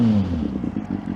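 A Kawasaki ZX9 motorcycle fitted with a long exhaust can revs briefly in a quiet residential street, a throaty, close engine note rising in a single short blip.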